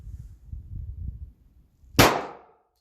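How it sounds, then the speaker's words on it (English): Single sharp report from a 357 SIG pistol fired outdoors over a chronograph in the sun, a loud crack with a short ringing decay after a few seconds of low rumbling. "here's a couple more with the 357 SIG with the chronograph in the sun."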